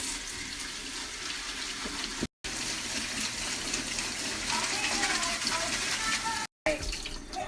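Food rinsed under running kitchen tap water, a steady gushing stream with brief breaks, and a person's voice faintly underneath.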